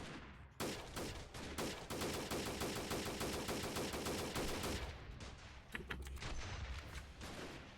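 Rapid automatic gunfire rattles in dense bursts in a terrorist-themed shooter video game, loud and sustained, then breaks into scattered single shots and shorter volleys.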